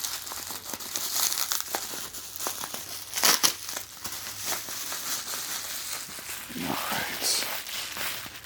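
Plastic packaging crinkles and tears by hand during an unboxing with scissors nearby, a steady close-up rustling broken by a few sharper crackles, with light handling noises throughout.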